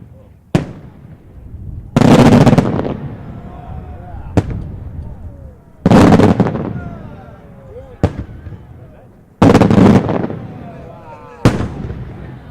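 Six Wiley firework shells go off one after another in the open air, each a sharp launch thump followed by a loud booming burst and crackling tail, with people talking between the blasts.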